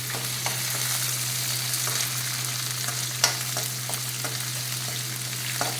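Onions and green chillies fry over a medium flame, giving a continuous close sizzle with occasional light stirring taps and one sharper clack, even in loudness, with no talk.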